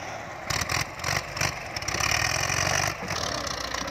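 A walk-behind tractor engine runs at mid pitch while pushing soil into a ditch beside a rice field, its throbbing steady and close, with scraping and bumping noises and the load rising and falling through the clip.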